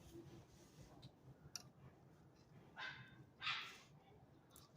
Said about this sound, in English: Someone's dog.